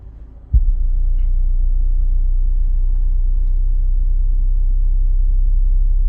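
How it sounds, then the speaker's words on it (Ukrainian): A UAudio Icon AS active subwoofer plays a frequency response test signal. A sudden thump is followed by a loud, steady, deep low-frequency drone that holds without a break. "зараз будемо міряти не пікове значення, а чисто побачити форму АЧХ, яку він видає"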